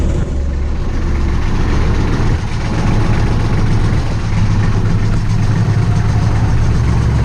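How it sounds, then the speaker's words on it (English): A heavy tractor engine idles and rumbles steadily, loud and close, with a constant low drone throughout and no voices. "I'm going to drive down to the garden with the tractor."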